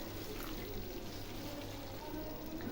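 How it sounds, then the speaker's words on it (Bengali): Water from rinsing a mixer jar is poured into fried fish curry masala for doi katla. It makes a steady, soft splashing pour that runs throughout at low volume. "এবার আমি মিক্সি ধোয়া জলটা দিয়ে দিচ্ছি"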